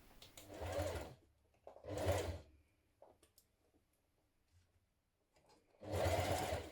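A sewing machine stitches trim onto a dress in three loud bursts of whirring, separated by quiet gaps with faint clicks and handling noises.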